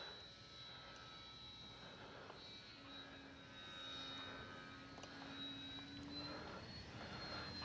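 A Dynam F6F Hellcat RC plane in flight, a faint, steady motor drone with a thin whine that rises and falls slightly as it passes.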